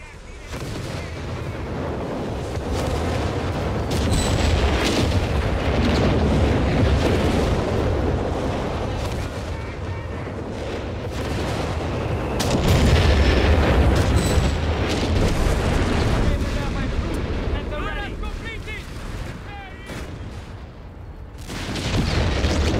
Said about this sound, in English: Heavy artillery is ready!